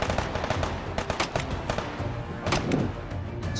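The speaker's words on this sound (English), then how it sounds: "that's definitely just fire shotgun" Shotgun blasts in the VR shooter Hotdogs, Horseshoes & Hand Grenades, a rapid, uneven run of loud, punchy shots close up, with almost no pause between them.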